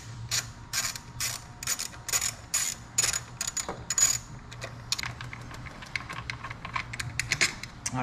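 Ratcheting and clicking from a socket wrench loosening 10 mm bolts on the air intake of a C7 Corvette, repeated close metallic clicks in bursts, with small rattles of parts, no talking.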